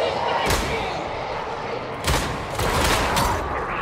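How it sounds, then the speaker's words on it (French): Loud pistol shots in Warhammer 40k Darktide, a few heavy booming blasts spaced irregularly over continuous dense game noise, with a voice speaking faintly underneath. "Ce pistolet est juste abominablement puissant."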